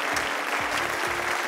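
A convention audience claps and cheers in a continuous, moderately loud burst of applause, with a few rhythmic thumps underneath and no clear speech.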